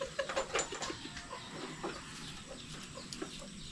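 Chickens clucking in short, uneven bursts close by, with a busy farmyard hum behind and no one talking.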